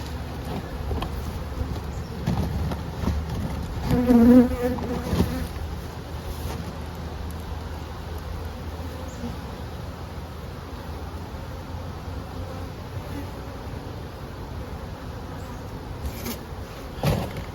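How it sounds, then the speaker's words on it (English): Bees buzz steadily in a dense, continuous drone as they pour out of a disturbed hive's entrance, swelling briefly near the start, then settling into a constant hum for the rest of the clip. "watch how the bees come out of the entrance as the hive got disturbed"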